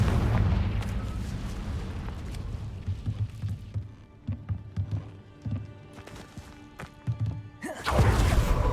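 Booming blasts from the Confringo explosion spell in Hogwarts Legacy: a heavy rumbling burst at the start, a series of thuds and rumbles through the middle, then another loud blast at the end.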